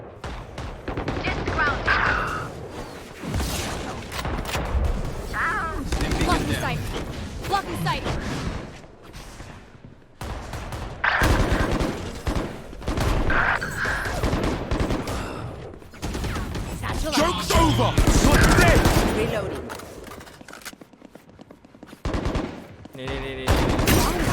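Gunfire bursts from the tactical shooter Valorant, rapid rattling shots repeating through the round, mixed with frequent talk over them.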